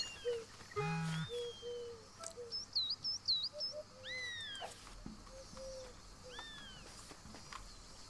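Bird calls in the wildlife exploration video game Alba: a Wildlife Adventure, several chirps and whistled tweets at varied pitches scattered across a quiet outdoor ambience, with no talk.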